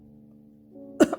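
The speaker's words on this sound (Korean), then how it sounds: "그래서 그는 일부러 큰 소리로 쿨룩쿨룩 기침소리를 내며 말했다." A single loud, deliberate cough bursts out at close range after a low steady hum, with a short second cough burst trailing right behind it.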